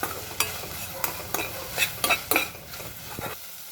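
Onions, tomatoes and turmeric frying in a pan are stirred with a utensil, giving a series of close scraping clinks at an uneven rhythm over a faint sizzle.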